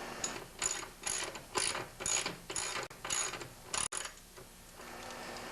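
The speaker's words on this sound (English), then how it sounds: "I'm going to start by trying to remove the bolts out completely" A ratchet working half-inch bolts loose on the handlebar of an MTD snowblower, a close series of about eight rhythmic clicking strokes, then quieter handling noise, no voices.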